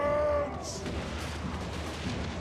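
Mortar artillery fire from a Total War: Warhammer battle, a loud booming burst at the start followed by a sustained rumbling barrage of distant explosions and gunfire with no talk.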